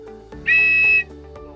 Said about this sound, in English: The life jacket has got a whistle, so if you're in distress, you can always